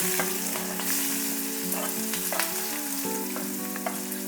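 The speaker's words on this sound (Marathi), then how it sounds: "तेल गरम झालेलं आहे, आता मी राई टाकून घेते, थोडंसं जिरं, थोडंसं हिंग टाकून घेते। आता ह्याच्यामध्येच मी एक कांदा टाकून घेते" Onion frying in hot oil with mustard seeds, cumin and asafoetida gives a steady, loud, close sizzle, with a few clicks and a faint tonal hum underneath, no talking.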